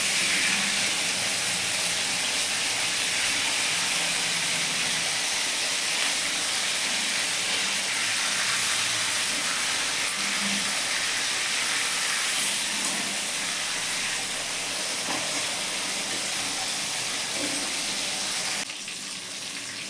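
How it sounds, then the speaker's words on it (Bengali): Continuous loud sizzling and hissing of tuna fish frying in plenty of hot oil, steady throughout with occasional crackles, fading slightly at the very end. "বেশি তেলে ভাজবেন মাছটা ভালো করে ভাজে যাবে"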